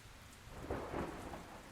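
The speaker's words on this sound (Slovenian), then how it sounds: "sicer komaj kaj, ker tako dežuje, da skoraj nič ne slišim" Heavy, steady rain pours down in a thunderstorm, a dense continuous hiss with low rumbling swells of thunder beneath it, fairly close and filling the whole moment without any voices.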